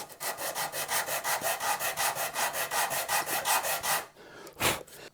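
Close, rhythmic rasping of sandpaper on a wooden guitar neck, a steady run of even back-and-forth strokes, then a pause and one last louder scrape.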